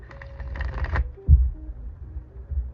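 Tarot cards being shuffled by hand during a live reading, a brief papery riffle up front followed by a soft thump as the deck is squared, with low room noise after.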